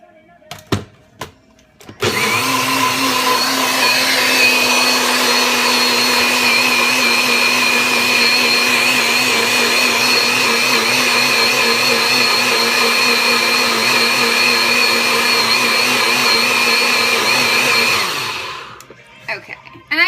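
Countertop blender whirring through a thick avocado superfood smoothie, a loud steady motor roar lasting about sixteen seconds after a few clicks and knocks, cutting off near the end.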